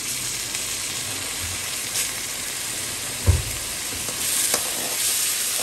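Onions, green chilli and ginger-garlic frying in a pan for a mutton liver pepper fry: a steady, even sizzle and hiss with an occasional stir or clink, moderately loud and without speech.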